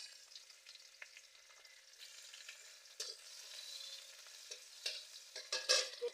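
Garlic and dried chillies fry in oil with a soft, fairly faint sizzle and crackle, joined by a few louder stirring scrapes and clatters toward the end, with no talking.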